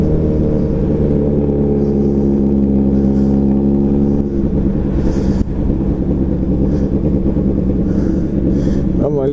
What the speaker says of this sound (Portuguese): Estamos com a motoca sem a ponteira Yoshimura. É muito barulho